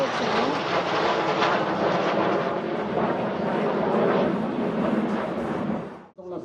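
Patrouille de France jet aircraft flying in formation at an air show, a loud sustained roar that holds steady for about six seconds, then cuts away sharply near the end.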